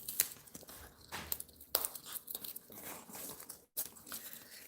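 A dog named Max chews and tears cardboard up close, with irregular crunching bites and ripping bursts broken by short pauses.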